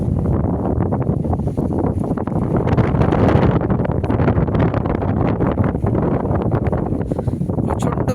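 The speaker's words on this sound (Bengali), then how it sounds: "প্রচন্ড বেগে হাওয়া চলছে।" Strong wind gusts hard and without a break on a mountain road between Muktinath and Pokhara, a loud roaring rush that buffets the microphone throughout.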